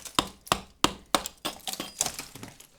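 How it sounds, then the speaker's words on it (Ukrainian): Knuckles or a tool tap on the plaster of a window reveal, with some spots sounding hollow where the plaster has come loose. About ten sharp knocks come at a steady, close pace, loud and with no talking. "От чуєте, який звук йде. Там йде пустота, тут треба збивати буде і саму штукатурку."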